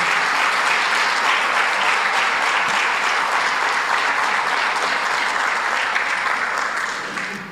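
A church congregation applauds during a sermon, a loud, dense and steady wall of clapping from many hands that holds evenly before tapering slightly at the end, with no talking over it.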